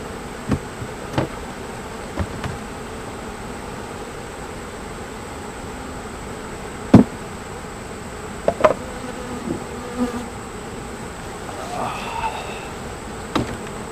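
Agitated honeybees buzz steadily in an opened hive of a queenless nuc colony, a continuous low drone with occasional sharper bumps and knocks from handling close by.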